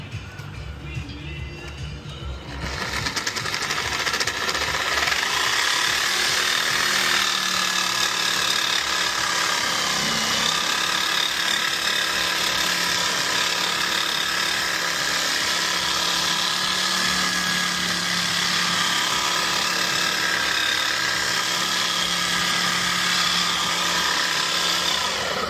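A saw with an 18 TPI blade cuts aluminum during a brake kit install on a Cobra replica, giving a continuous loud rasping buzz that holds steady for over twenty seconds after a quieter start.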